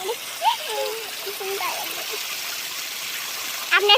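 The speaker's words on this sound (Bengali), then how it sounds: "এটা আমাদের ঝর্ণা জল আসছে, দেখেন এই যে ঝর্ণা জল।" Motichur waterfall in hill country, a steady broadband rush of falling and splashing water filling the background while a voice speaks intermittently over it.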